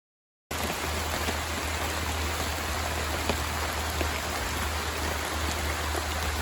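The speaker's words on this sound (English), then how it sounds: "It is still raining. It's pouring really good." Heavy rain pouring steadily at a campsite, a dense even hiss of drops with occasional louder splatters, constant and close after a moment of silence.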